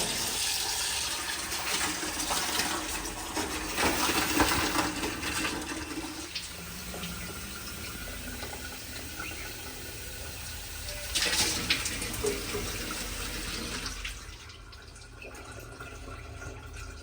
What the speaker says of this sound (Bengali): আমাদের ডিপ কলের লাইন থেকে ডাইরেক্ট পানি নেওয়ার জন্য কিন্তু এই কলটা আমি রেখেছি